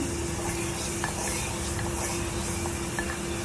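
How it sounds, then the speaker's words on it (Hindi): Chopped tomatoes hit a handi of frying bitter gourd (karela), giving a steady, close hiss of sizzling and stirring that holds at an even level throughout, with no talking. "अब इसमें हमने चॉप किए हुए टमाटर डाल देने"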